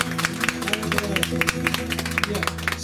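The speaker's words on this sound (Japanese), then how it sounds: "拍手ですよね" An audience claps at a birthday live concert, a quick, fairly steady run of close, crisp claps over a sustained tonal hum that might be a voice or instrument.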